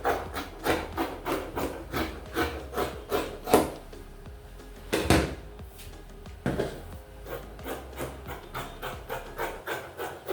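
Scissors cutting fabric for a gown, a regular series of crisp snipping and rubbing strokes close by, steady rhythm with a couple of louder knocks partway through.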